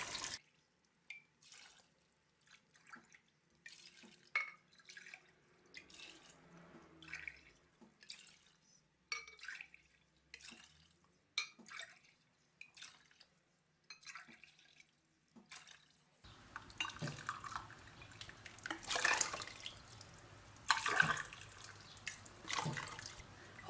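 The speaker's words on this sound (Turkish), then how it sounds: "Bardakla suyumu koyacağım." Water poured from a glass into a pot of dried apricots for a compote, entering after a stretch of sparse drips as a steady, close splashing pour that swells and continues to the end.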